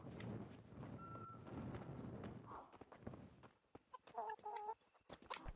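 Chickens at a coop in the video game Kingdom Come: Deliverance cluck in short, close bursts, mostly in the second half, with footsteps and a low rumble early on.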